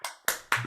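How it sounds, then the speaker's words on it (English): A few sharp, separate claps ring out close by for Allison Reed at an online livestream with The Ark, three quick bursts within a moment. "let's give her a nice round of applause"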